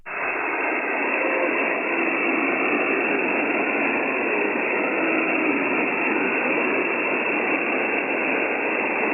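Steady hiss of amateur radio static from an Icom HF transceiver with a weak incoming signal buried in it. It is band-limited and continuous, with no clear voice coming through the noise.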